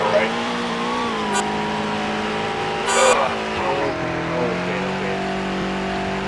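A car drives in the Roblox game Greenville, its engine a steady hum that shifts pitch as it moves, with a couple of brief bursts of noise. No one speaks.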